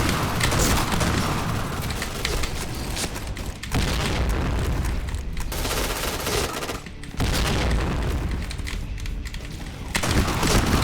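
Gunfire in the online shooter Point Blank, loud, dense and continuous bursts of shots and booms with brief gaps between volleys.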